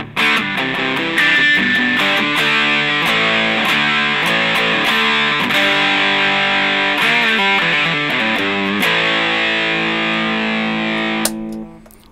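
Electric guitar played through an MXR Distortion+ pedal into an amp, heavily saturated and harmonically rich with a slightly fizzy edge, sustained chords and riffs ringing loud and alone for the whole stretch before cutting off near the end.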